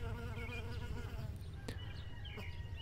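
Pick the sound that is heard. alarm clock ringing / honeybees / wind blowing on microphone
honeybees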